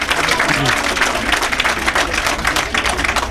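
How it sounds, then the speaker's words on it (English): Applause from an audience at an event, dense and continuous, with voices mixed in. "Round of applause again, then go on."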